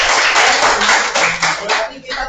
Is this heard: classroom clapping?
yes